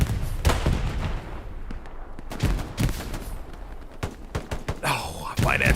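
Gunfire from the video game Glow's Battlegrounds, a string of sharp irregular shots and bursts, some close and loud, others fainter, with a commentator talking over them.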